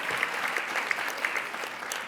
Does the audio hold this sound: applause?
yes